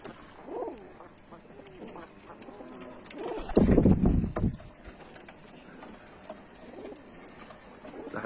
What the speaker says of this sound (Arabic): هذني الطيور.